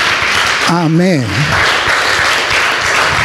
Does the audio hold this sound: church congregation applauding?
yes